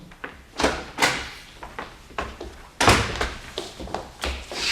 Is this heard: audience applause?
no